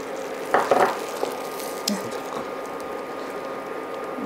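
Sugar and milk cook in a pan, giving a soft bubbling sizzle with a few sharp clinks and scrapes of a utensil early on, then a quieter steady simmer, and no one speaking.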